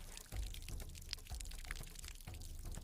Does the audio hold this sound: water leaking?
yes